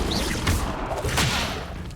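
In the Hogwarts Legacy video game, the Bombarda spell is cast and produces a short, muffled explosive burst with crackling debris. The blast is brief and is mixed with other combat effects.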